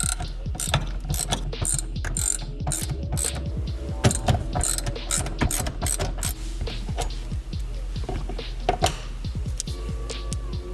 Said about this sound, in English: So get your 12mm ratchet and get them suckers off.